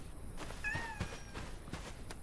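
A cat gives a short, thin meow at night near a water delivery stop, faint against a steady hiss of background noise, with a few soft knocks and footfalls around it.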